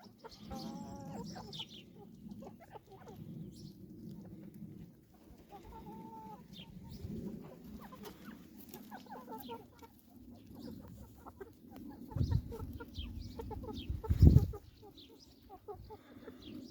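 Chickens cluck softly and intermittently nearby, with scattered bird calls and a few bumps, against a quiet outdoor background.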